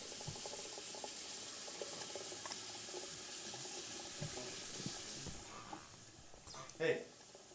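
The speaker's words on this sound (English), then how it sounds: "The kitchen faucet is running, the bathroom faucet was on when I woke up." A kitchen faucet runs with a steady, faint hiss of flowing water in a quiet room, continuing evenly before a brief louder splash near the end.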